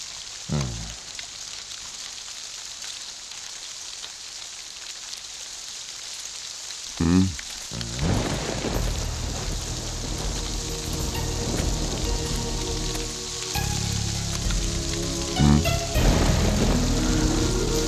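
Steady rain falling on surfaces outdoors, a continuous hiss with heavier bursts and some louder impacts partway through, with no talking.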